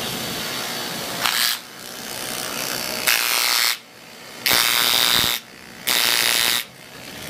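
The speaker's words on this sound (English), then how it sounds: "that's without a chisel in it. It wants to rotate." Electric chisel running with no bit fitted, its rotating mechanism giving a steady mechanical whirring buzz that surges louder in several short bursts as the trigger is squeezed, close and loud with no talk.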